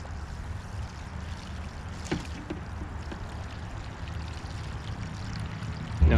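Small pump pushes melted snow water out through a hose into a gallon jug, a steady rushing, pouring flow that stays even throughout and ends with a soft thump.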